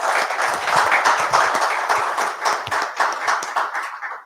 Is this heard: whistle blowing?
no